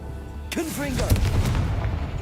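Confringo blasting spell fired in Hogwarts Legacy, a loud booming explosion with a burst of crackling debris, while a voice calls out over the blast.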